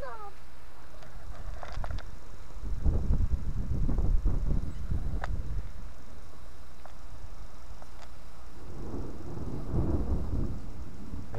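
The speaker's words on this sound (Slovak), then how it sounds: "Čo počuješ? Hrom." Thunder rolls in low, rumbling swells with rain in the background, rising twice in the middle and again near the end, while children and an adult talk nearby.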